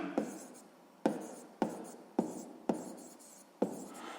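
Pen strokes on paper while solving a sixth-grade math exercise, six sharp scratchy onsets each trailing off into a short scribble, close and fairly quiet, with no voice.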